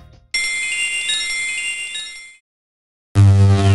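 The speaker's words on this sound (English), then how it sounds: "the startup sound you hear isn't a pre-rendered file that's played back to you" Startup sound of an original Sony PlayStation console: a bright, sustained synthesized shimmer swells and fades over about two seconds, then after a short silence a deep, resonant chord strikes loudly.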